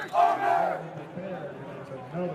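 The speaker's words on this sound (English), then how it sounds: "might have caught that at the very end, the Army cheer" Army team cheer at a 2019 DoD Warrior Games sitting volleyball match, a loud group shout from many voices rising at once and then fading into crowd noise over a couple of seconds.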